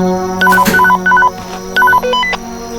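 Telephone dialing tones in a horror video game, with a clear sequence of electronic keypad beeps in short grouped bursts, loud and close, followed by further tone steps.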